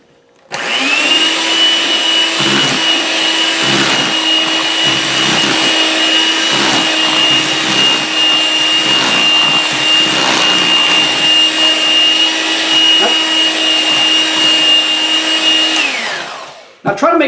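Electric mixer beating brown sugar into cookie dough, a loud steady motor whir running close for about sixteen seconds before winding down and cutting off.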